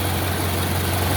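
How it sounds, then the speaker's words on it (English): A 1931 Ford Model A engine runs steadily nearby, a loud, even idle with a strong low hum and no voices. "the engine's running really nice"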